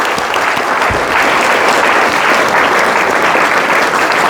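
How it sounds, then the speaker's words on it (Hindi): Audience applause at a weekly examination prize distribution, a dense, steady wash of clapping that fills the whole stretch at close range and high level. "ताली बजाएं"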